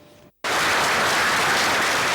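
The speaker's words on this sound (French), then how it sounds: "Un standing ovation ici à l'hémicycle" Standing ovation in a parliament chamber in Burkina Faso: after a brief hush, dense, loud, sustained applause from a full hall breaks out and holds steady.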